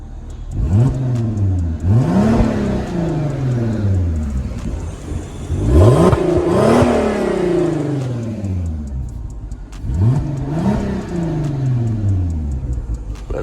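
A turbocharged Golf R32 engine revs up repeatedly in close, loud sweeping bursts, each climb followed by a fall, with exhaust crackle and pops as the revs drop, three distinct rev cycles in total.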